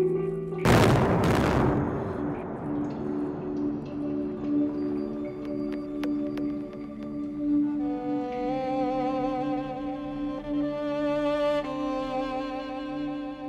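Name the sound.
explosion blast in the Black Hills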